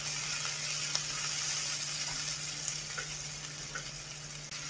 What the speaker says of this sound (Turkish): Soğan ve biberleri iyice yumuşayana kadar kavuralım